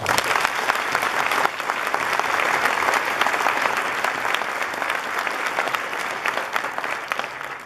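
A graduation audience applauds steadily as the class of 2015 salutatorian comes to the podium, a dense, loud wash of clapping from a large crowd that holds for several seconds and eases only slightly.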